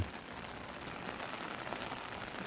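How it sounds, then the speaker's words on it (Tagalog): Light rain falls steadily under a dark, cloudy afternoon sky, a soft continuous patter with no voices or other sounds over it. "mahina-hina na ang ulan pero ang dilim pa rin ng ano, ulap po oh."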